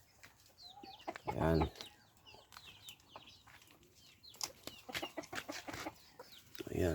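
Shamo and Parawakan chickens and roosters cluck and call on a farm, including one loud nearby crow, with scattered clucks and wing sounds around it and someone speaking briefly between them.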